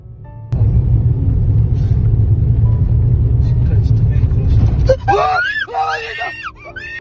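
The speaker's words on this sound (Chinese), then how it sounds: "吓得奈提和朋友尖叫连连" A steady low engine rumble from a white van speeding at night gives way to several people screaming loudly together in the last two seconds.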